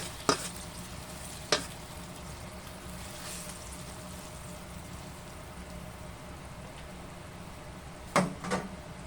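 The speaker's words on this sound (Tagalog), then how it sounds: "Halo lang natin ang ating munggo." Mung beans are stirred in a cooking pot over a steady sizzle, with a few sharp spoon scrapes and clinks spaced several seconds apart.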